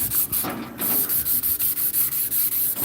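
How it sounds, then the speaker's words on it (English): A soft sanding block rubs over automotive paint on an E36 M3, knocking down orange peel in quick, evenly repeated back-and-forth strokes, close and rhythmic with no talking. "And then I'm just gonna watch the corner here as I'm sanding it."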